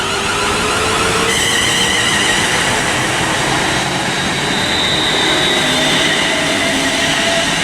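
Class 350 electric multiple unit 350 265 pulling away from Birmingham International station, a loud sustained rumble and rising electric motor whine close by, with no voices.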